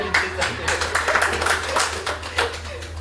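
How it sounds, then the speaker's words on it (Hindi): A group at a weekly business meeting claps in irregular bursts over a low steady hum, the claps loose and uneven, with voices talking over them. "ताली"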